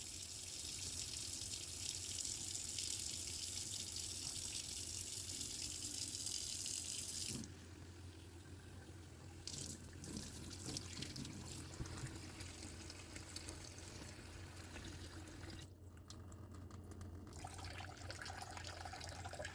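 Tap water runs steadily into a sink to fill a bath for a blue Quaker parrot, a loud broadband gush that eases slightly partway through, with faint splashing and no talk.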